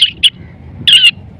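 A man imitates a sparrow with high, sharp whistled chirps, two brief quick ones followed by a longer trilling chirp, close and clear over a quiet background.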